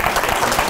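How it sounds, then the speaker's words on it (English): Final round of applause from a conference audience at the close of a talk, a dense, steady wash of many hands clapping, loud and continuous throughout the short burst. "one more final round of applause"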